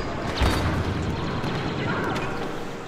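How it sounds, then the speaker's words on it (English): An ion grenade goes off in the Star Wars Battlefront video game: a loud boom up close, followed by a rumbling tail, with a player's voice over the game noise. "Ion grenade"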